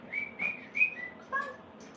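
A cockatoo gives a series of short, high whistled notes, about five quick chirpy phrases in two seconds, faint and close in a quiet room.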